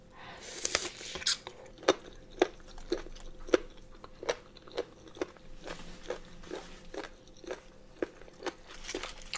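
Crunchy pig ears eaten with super spicy chili sauce, close crisp bites and chewing crunches repeating at a steady rhythm of roughly two per second, loud and alone without talk.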